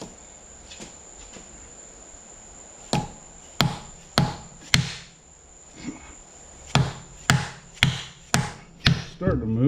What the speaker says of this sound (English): This is a plastic dead blow hammer.